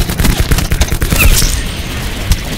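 Gunfire in a shooter video game, dense rapid bursts with heavy low booms, loud and close, continuing for a couple of seconds without speech.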